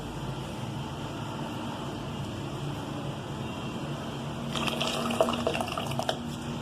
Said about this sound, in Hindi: अब हम इसके अंदर चावल ऐड करेंगे जो हमने पहले से ब्लेंडर में ब्लेंड करके रखे हुए थे।